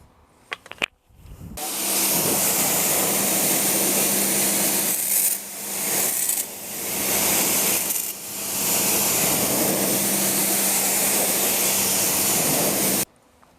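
Water spray rinses a car tyre and wheel during a budget detailing job, a loud steady hiss running about eleven seconds with brief dips and pauses, alone without talk.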